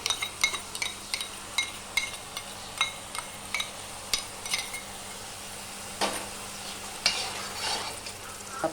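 Two cups of tomato puree fry in oil for paneer masala while a utensil stirs and scrapes the pan, giving repeated clinks and knocks over a steady sizzle.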